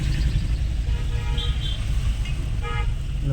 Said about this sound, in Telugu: బాగానే ఇంకా బండ్లు కూడా బాగానే వస్తున్నాయి పోతున్నాయి